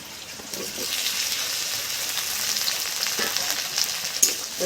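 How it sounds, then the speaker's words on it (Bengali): Onion frying in a pan until lightly reddened gives a steady, close hiss and crackle of sizzling oil that holds evenly throughout, with a faint clink of a utensil near the end. "এই যে আমি পেঁয়াজটা এইভাবে ভেজে নিলাম"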